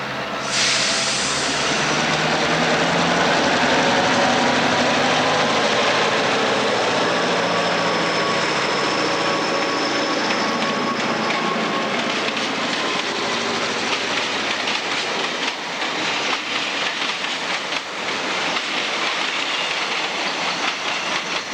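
A bulldog-nosed diesel locomotive rolls along the rails with a steady roar, hiss and rhythmic clickety-clack of the wheels, loud and continuous throughout.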